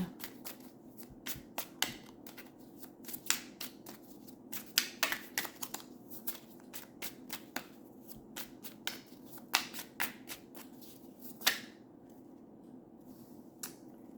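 Tarot cards being shuffled by hand, a run of crisp irregular flicks and snaps over a low steady hum, close and fairly quiet.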